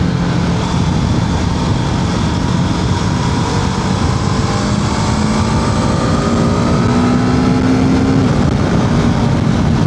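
A BMW F 450 GS motorcycle accelerates hard on a ride, its engine note climbing steadily in pitch through the gears, loud and continuous against constant wind roar, with no talk.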